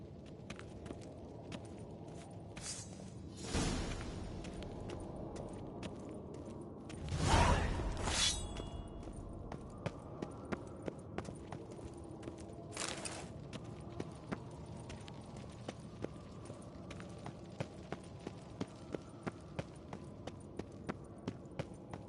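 Horse hooves clip-clop in The Witcher on PS4, an even series of light hoofbeats running steadily through the scene, with a couple of louder whooshing swells and no one talking.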